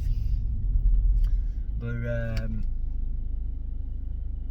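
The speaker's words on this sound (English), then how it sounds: "God, the traffic's horrendous, guys." Heavy road traffic heard from inside a moving car, a steady low rumble of engines and tyres with a brief voice rising over it midway.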